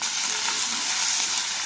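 Mustard seeds, cumin and dried red chillies tempering in hot oil for a Telangana brinjal charu, a steady close sizzle with a dense frying hiss that holds evenly throughout, with no talking.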